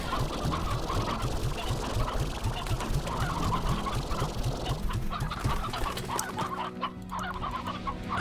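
A flock of chickens in the video game Slime Rancher clucks steadily and close by, a busy overlapping chorus of clucks with no one speaking.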